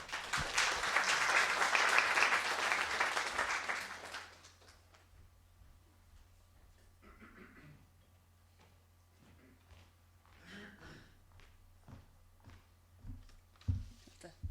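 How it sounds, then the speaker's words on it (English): A loud burst of audience applause at the NUI Galway Threesis Final 2014 for about four seconds, then it fades into a quiet room with scattered small clicks and knocks. "Give her a round of applause."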